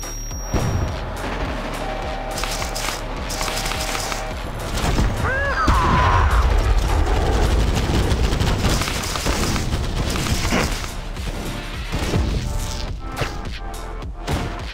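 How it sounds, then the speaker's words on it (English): Smart bombs exploding during a Tacticool mobile shooter match, a dense, loud run of booming blasts and gunfire-like bursts that goes on throughout, with some brief talk mixed in. "Literally, I'm spamming smart bombs."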